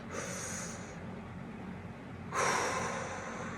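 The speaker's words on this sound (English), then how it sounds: "What I'll do is I'll breathe into my belly" Deep belly breathing: two strong, airy breaths, the second louder and rougher, separated by a short quiet pause. The breaths are close up and heard alone.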